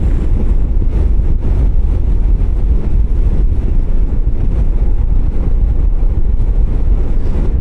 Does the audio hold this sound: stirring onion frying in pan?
no